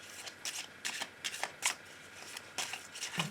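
Oracle cards for a love reading are shuffled by hand in repeated quick riffling bursts, close and fairly quiet, with short pauses between each shuffle.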